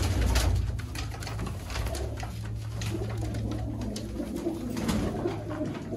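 Sialkoti pigeons coo in soft, rolling low calls that repeat steadily throughout, close and continuous over a steady background hum.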